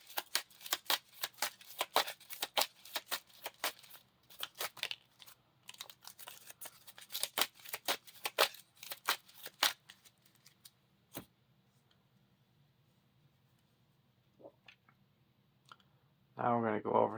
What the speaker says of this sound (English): So we're shuffling into the encounter deck.